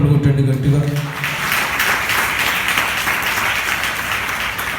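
A church congregation applauds loudly at a Sunday service, a dense, sustained wash of many hands clapping that begins right after a spoken line and continues steadily throughout.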